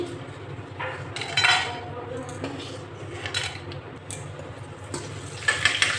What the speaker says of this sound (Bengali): একটা হাতার সাহায্যে তুলে নিচ্ছি।